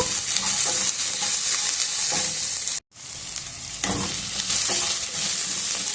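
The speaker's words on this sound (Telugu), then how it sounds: "ఉల్లిగడ్డ ముక్కలు వేసి కొద్దిసేపు మగ్గనిద్దాము" Onion pieces and curry leaves fry in a hot pan as a loud, steady, close sizzle with scraping stirs, cut off by a short gap before the crackling carries on, with no voices.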